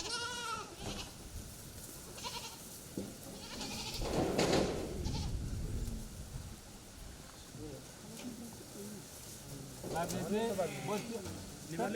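Goats bleating at a small livestock-raising farm, several bleats scattered across twelve seconds, some near and loud, with a burst of louder bleating near the end, along with bird calls and someone talking.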